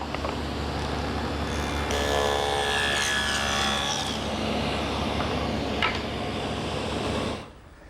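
A saw with a fence cutting a trough into a wooden piece for a marble roll: a loud, steady grinding whine lasting about seven seconds before it cuts off abruptly, with no talking.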